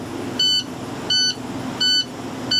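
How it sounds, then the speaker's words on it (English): A school bus's air brake warning beeps while the system fills with air: four evenly spaced, loud electronic beeps about two-thirds of a second apart, over a steady idling engine drone. "just let it finish filling up with air and it'll stop beeping"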